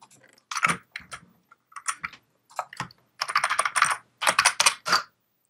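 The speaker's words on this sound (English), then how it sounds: "You have the loudest keyboard anyone known to man." Loud, close computer keyboard typing during a Minecraft Tekkit session, with irregular bursts of clattering keystrokes separated by short pauses.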